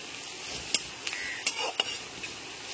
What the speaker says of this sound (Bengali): আদা বাটা আর রসুন বাটাটাকে খুব ভালো করে পেঁয়াজের সাথে কষিয়ে নিতে হবে।